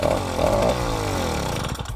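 A Chinese-made 80cc motorized bicycle engine revs hard and close, its buzzy two-stroke note rising then settling into a steady high idle over two seconds, with no talking.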